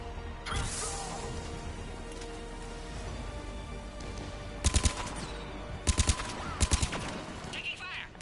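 Gunfire in a Mass Effect 3 battle, several tight bursts of rapid shots cutting through steady background combat noise, loud and close, with game voices audible around them.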